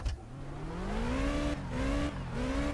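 A car engine in the driving game My Summer Car revs hard and climbs in pitch while the car sits stuck in the dump, straining loudly with a couple of brief dips in the revs.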